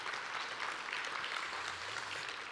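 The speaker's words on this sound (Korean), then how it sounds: "도저히 다시 한번 박수를 안 쳐드릴 수가 없습니다" Sustained, dense applause from a studio audience at an entrepreneurship talk-concert on Korean business television, steady and fairly loud for the whole stretch with no voices over it.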